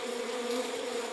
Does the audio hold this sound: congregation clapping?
no